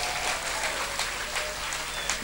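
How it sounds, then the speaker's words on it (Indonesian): Steady audience applause at a religious sermon gathering, dense and continuous clapping filling the room at moderate loudness, with no voices standing out. "Tepuk tangan buat semuanya"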